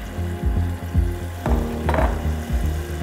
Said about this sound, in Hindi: ये देखें तेल ऊपर आ रहा है, ये अच्छी तरह भून रहा है।